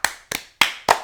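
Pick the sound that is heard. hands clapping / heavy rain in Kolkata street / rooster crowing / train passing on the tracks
hands clapping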